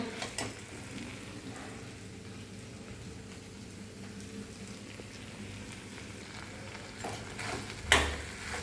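Okra dropped into a hot spice tempering for bhendi bhaji gives a steady, close sizzle with faint stirring, ending in a sharper hiss and clatter near the end; no voices.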